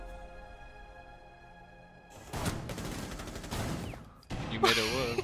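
Gunfire in Rainbow Six Siege, with a shotgun in use: bursts of loud, close shots begin partway through, following a quieter stretch of steady tones, with several dense blasts toward the end.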